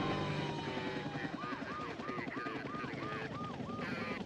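A TVA news helicopter in a comedy news parody gives a steady, loud rotor and engine rumble, with a run of repeating chirping tones over it in the second half.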